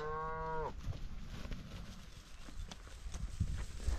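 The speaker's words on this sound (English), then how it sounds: "Neighbor's cows up there" A Hereford-cross cow moos once, a long drawn-out low call at the start, followed by rustling and faint outdoor farm noise.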